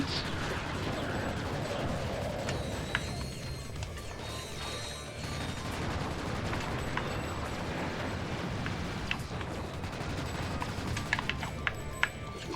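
Pistols fire repeatedly in Ratchet: Deadlocked, sharp bursts of gunfire with mechanical clanks and gear noises over dense game effects, with no talking.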